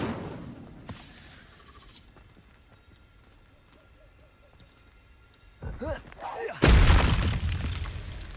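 In the video game Hogwarts Legacy, the Incendio fire spell goes off as a sudden loud whoosh and burst of flame near the end, after quieter game sounds and brief bumps.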